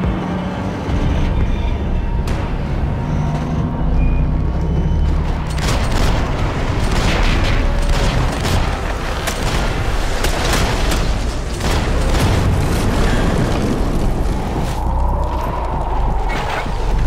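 Bursts of gunfire and heavy booms from the video game Max Payne 3 fill a dense, loud in-game soundscape of rapid shots and impacts, with no talking.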